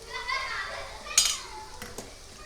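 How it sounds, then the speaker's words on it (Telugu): Chicken or mutton curry being stirred and fried in a pot, with a metal spoon clinking and scraping the pot in a few short knocks, faint cooking noise underneath and children's voices nearby. "కొంచెం వేగనిద్దాం."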